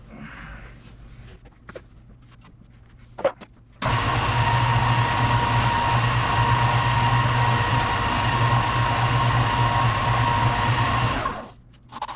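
A machine routes a white ash guitar body, a loud steady whirring roar that starts abruptly after a few quiet seconds and runs evenly for about eight seconds before winding down.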